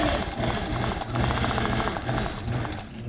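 A sewing machine quilting a memory quilt, running in a steady fast mechanical chatter, close and continuous, with slight changes in speed.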